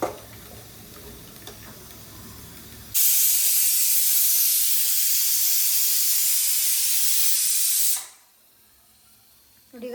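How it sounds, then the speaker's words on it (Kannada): A pressure cooker on a stove lets out one loud, steady hissing whistle while cooking biryani. The whistle lasts about five seconds, cuts off abruptly, and is followed by a brief pause. "1 ವಿಸಿಲ್ ಆಯಿತು"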